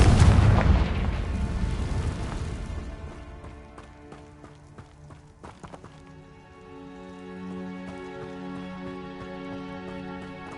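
A loud blast from the Confringo fire spell in Hogwarts Legacy bursts at the start and decays into a rumbling tail, followed by steady tonal game music and a few sharp clicks.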